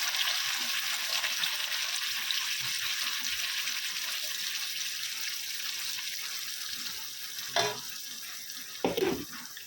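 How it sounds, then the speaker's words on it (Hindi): Ground masala frying in a pan, a soft steady sizzle throughout with a couple of brief clinks of stirring near the end, quiet and close. "अभी मसाले को अच्छे से भूनेंगे, 10 मिनट तक मसाले को भूनेंगे।"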